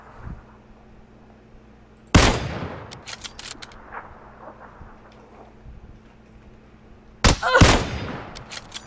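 Two sharp, loud sniper rifle shots ring out in a battlefield video game, each with a trailing echo and decay, spaced about five seconds apart, with faint clicks and handling noises in between.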